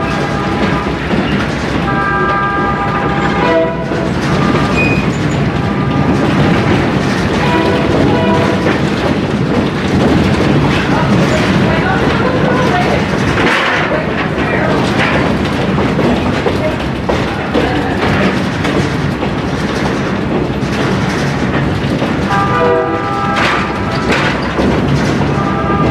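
A standard gauge steam locomotive train rolls past, loud and close, with a continuous rumble, clattering wheels over the rails and a few brief whistle tones.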